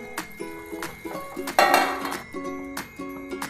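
A metal lid set onto a pan of cooking spices on the stove for a Marathi soybean dry bhaji, giving a few sharp clinks and a ringing scrape of metal against metal, close and fairly quiet.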